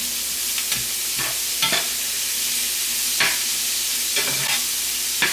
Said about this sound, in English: Stir them up, and then we will season them.